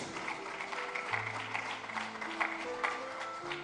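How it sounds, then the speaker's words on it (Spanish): A church congregation applauds during a Spanish-language worship service on the baptism of the Holy Spirit, steady dense clapping filling the room at moderate level, with sustained tones lingering underneath. "Dale un aplauso al Señor y seguimos."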